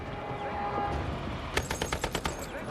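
Burst of automatic gunfire from a 2014 war film, roughly eight sharp rapid shots in quick succession over a low rumbling background, fairly close and loud, with no talk.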